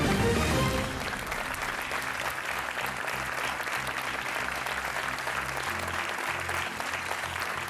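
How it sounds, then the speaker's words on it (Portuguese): Sustained audience applause in a television game show studio as a contestant is welcomed, a continuous dense clapping wash with music playing underneath. "O vosso aplauso para o Miguel Oliveira."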